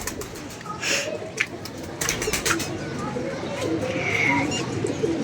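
Pigeons coo repeatedly at close range in an outdoor loft where birds are being covered, their low rolling calls running under steady background noise and a voice.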